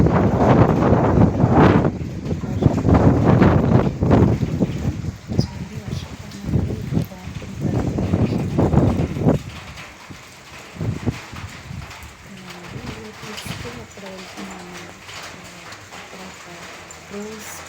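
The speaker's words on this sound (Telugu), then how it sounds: "వర్షం పడుతుంది. ఇక్కడ చూడండి వర్షం" Rain falls in gusty wind outdoors during an evening downpour, a loud rushing, buffeting wash in the first half easing to a softer steady patter, with some indistinct talk.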